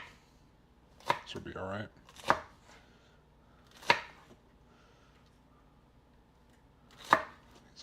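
A knife chops produce on a cutting board in a kitchen, four sharp separate knocks spaced a second or more apart, with a short muffled shuffle between the first two and a brief spoken remark.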